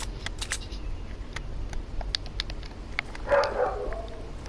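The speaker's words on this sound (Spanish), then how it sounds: "Tú también tienes perro, por lo que veo." A dog gives a short bark or yip near the end, a single moderately loud burst over faint background noise and scattered small clicks.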